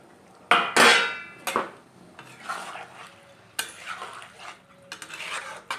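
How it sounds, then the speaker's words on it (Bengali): Fried paneer cubes added to a pan for chilli paneer and stirred, loud metallic scrapes and clanks of a spoon against the pan over a light sizzle. "এবার আমি ভেজে রাখা পনিরগুলো দিয়ে দিলাম"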